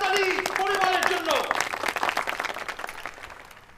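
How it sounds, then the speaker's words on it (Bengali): An audience claps for Parimal at an award presentation, with the clapping swelling up just as a tonal voice fades out, then thinning and trailing off toward the end. "সবাই জোরে হাততালি পরিমলের জন্য"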